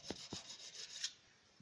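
A speed skate blade being sharpened with a tungsten sharpener, giving two quick scraping rasps near the start followed by lighter rubbing strokes, close and fairly faint, with no voices.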